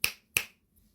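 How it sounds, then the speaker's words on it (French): Two crisp finger snaps ring out close and clear, roughly a third of a second apart, each with a quick decay into near silence. "Eh bah oui, le claquement de doigts. Vous entendez?"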